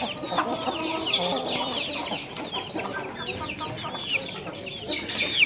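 Several chickens clucking and chattering nearby, overlapping short calls with bits of background noise.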